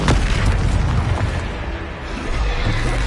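A blasting-spell explosion in a PS4 video game: a sharp opening boom followed by a loud, rumbling, sustained burst that fills the clip with dense noise.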